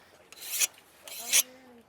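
Two rasping strokes of a whetstone drawn along the narrow edge of a scythe blade, each stroke about a third of a second, close and clear, with a faint ringing of the steel after the second pass.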